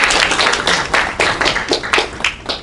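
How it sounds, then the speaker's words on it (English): A small audience claps, a close, uneven burst of hand claps that rises and falls in quick ragged pulses for a few seconds. "We can clap."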